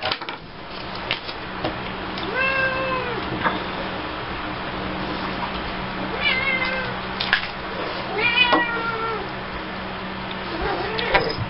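Several clear meows from a house cat in a room, spread through the stretch with repeated rising-falling calls, close and fairly loud over a steady low hum, with no talking.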